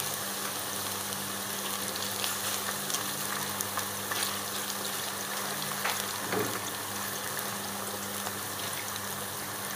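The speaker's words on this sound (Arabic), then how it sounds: "ابتدي انزل بالبصل بتاعي هسيبه ياخد اللون واقلبه" Onions for Egyptian koshary fry in oil, browning in a pot with a continuous, even crackle and hiss that resembles rain, accompanied by a low steady hum and the occasional soft stir.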